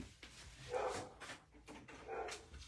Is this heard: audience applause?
no